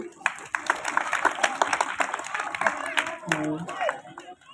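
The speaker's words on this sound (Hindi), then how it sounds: "हम लोग सभी के भी लगभग ताली बजाएंगे" An audience claps at an indoor Diwali honoring event, with dense, steady applause sustained throughout and a voice breaking in near the end.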